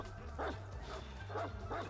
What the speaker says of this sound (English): we got a dog